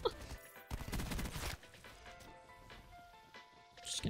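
Bursts of light machine gun fire from a Hades LMG in a first-person shooter video game, loud rapid volleys early on, then quieter scattered shots and game effects.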